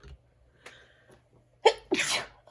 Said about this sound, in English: hold on, I'm getting ready to sneeze